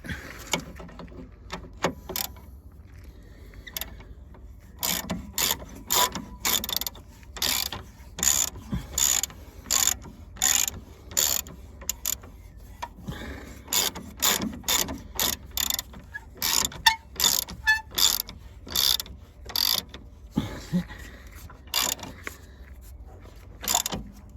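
A ratchet with a 21mm socket tightens the front lower suspension arm bolts on a Jeep Grand Cherokee LTD, producing rapid bursts of clicking that repeat through the whole stretch with short pauses between strokes.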